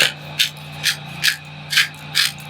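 An Italian seasoning grinder twisted over food at a cabin Thanksgiving meal, six short, evenly spaced raspy grinding bursts, close and fairly crisp over a faint steady hum.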